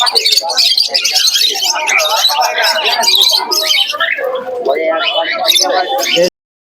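Many birds, including pigeons, at a busy bird market in Shantipur, with dense overlapping chirps and calls filling the air continuously at close range while people talk throughout.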